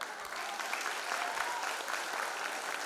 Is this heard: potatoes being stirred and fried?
no